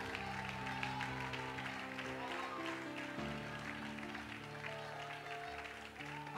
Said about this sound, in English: I want you to clap your hands to the Lord